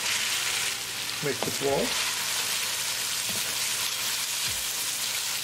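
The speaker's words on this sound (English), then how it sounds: "we're going to cook our onions until they are nicely translucent" Onions and garlic fry in a pan for a chicken do pyaza curry, producing a loud, dense, continuous sizzle that is briefly interrupted by a short spoken remark.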